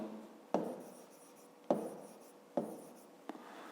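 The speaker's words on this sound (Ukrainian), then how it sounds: "Пишемо сума цифр" A pen writes a math exercise on paper in four short, distinct scratchy strokes, close and quiet, with pauses between each.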